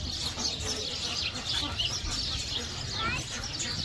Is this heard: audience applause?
no